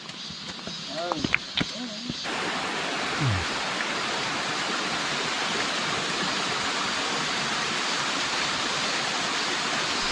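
A few brief knocks and a short vocal sound at the start, then steady, loud rushing water of a mountain valley stream pouring over a waterfall on Juheulsan, Mungyeong, continuous and close.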